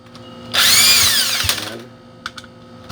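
A power drill whirs loudly for just over a second as it backs a screw out of a Bosch GSS 2300 orbital sander, its pitch sliding as it winds down, followed by a few small clicks and taps.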